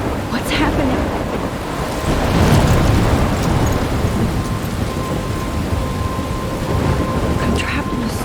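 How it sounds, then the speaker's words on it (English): Heavy rain pours steadily through a video-game thunderstorm in Life is Strange Remastered, with a low continuous rumble of thunder rolling underneath and a few brief brighter cracks standing out over the dense downpour. "I'm trapped in a storm?"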